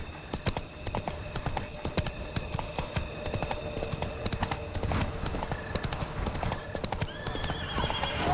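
Roach, a horse in The Witcher 3, gallops with rapid, steady clip-clop hoofbeats close up, a brief whinny rising near the end over layered game ambience.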